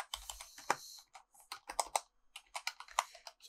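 Typing on a computer keyboard, with rapid irregular clicks and taps close up in uneven clusters and no one speaking.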